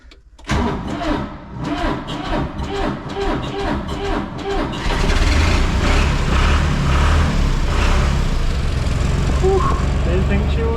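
A broken-down T6 tractor engine cranks with a rapid rhythmic churn for several seconds, then catches and roars into a loud, steady idle close by, with a voice speaking over it.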